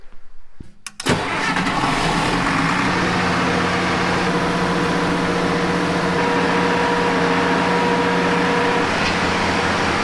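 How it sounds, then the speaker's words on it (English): A generator cranks briefly and catches, then settles into a loud, steady mid-pitched engine drone that continues unbroken at close range, with no talking. "Let's fire up the generator."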